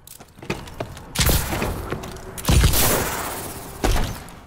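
In the Advanced Warfare video game, heavy booming blasts of a grenade explosion and bursts of gunfire hit sharply, three strong impacts with crackling debris among fainter shots.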